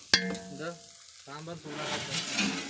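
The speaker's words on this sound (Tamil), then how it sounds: "வந்து பொரியல் சூடு பண்ணிகிட்ருக்காங்க" Leftover sambar and poriyal reheat in a pan, giving a soft sizzle with stirring scrapes, fairly faint, with a sharp clank near the start.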